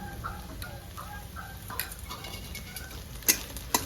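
Garlic paste sizzles lightly in a pan while a spoon stirs it, with scattered scraping strokes and a couple of sharper clacks toward the end, during preparation of mustard-sauce hilsa.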